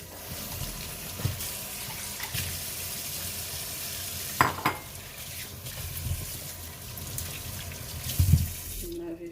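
Figs being washed in water at a kitchen sink, with continuous running and splashing water, occasional clunks and handling knocks, and a louder knock near the end.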